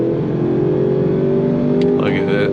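A 2025 Range Rover Sport Autobiography's engine pulls steadily under throttle after a downshift from third to second, a continuous mid-pitched drone heard from inside the cabin beneath someone talking.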